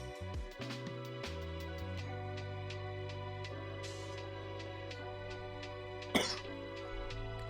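A few dry coughs and throat clears rise over a steady looping background of music and game ambience, one sharp cough standing out near the end.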